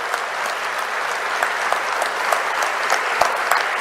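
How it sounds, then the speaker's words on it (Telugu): An audience claps steadily and warmly throughout at the inauguration ceremony of a world Telugu federation, the applause dense and sustained with no voices over it. "వారిని అందరూ కూడా గట్టిగా చప్పట్లు కొట్టి మనస్ఫూర్తిగా అభినందిస్తే"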